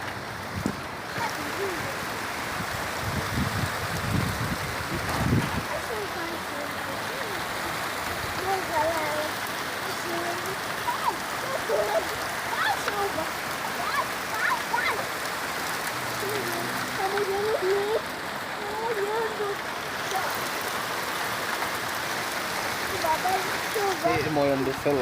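Steady rain drums on a house roof and a parked car, a dense continuous patter throughout with people talking and calling out over it in Portuguese.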